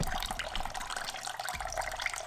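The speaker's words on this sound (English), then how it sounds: "draining the reservoir tank with distilled water, cleaning out that antifreeze" Distilled water flushing through a Kawasaki Z900 motorcycle's coolant reservoir tank to rinse out antifreeze, a steady close rush and trickle of running liquid with no talk.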